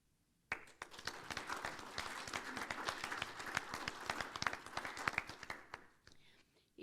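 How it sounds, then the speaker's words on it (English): Applause from an audience at a speakers' event during a Catholic mission week, starting abruptly and carrying distinct individual claps over a dense wash, then tapering off toward the end. "let's give him another round of applause."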